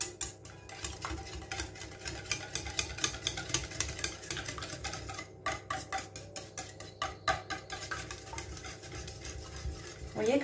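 Egg yolks being stirred in a bowl for a crustless quiche, a quiet rhythmic scraping and tapping of utensil against dish over a low background hum.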